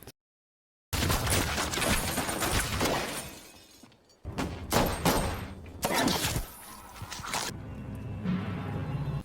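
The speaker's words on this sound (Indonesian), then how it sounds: "Namun keberadaan mereka diketahui saat Takeshi melepaskan tembakan." Gunfire in a violent scene from the action film Yakuza Princess: loud bursts of rapid shots and shattering impacts after a moment of silence, several separate volleys with brief gaps, no talk.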